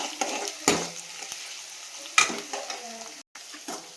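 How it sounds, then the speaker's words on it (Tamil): Green chillies and onions sauté in a pan, with short sizzling bursts and scraping stirs at irregular intervals over a quiet background, no speech. "பச்சை மிளகாய் போட்டுக்கோங்க, நல்லா போட்டு வதக்கிக்கோங்க"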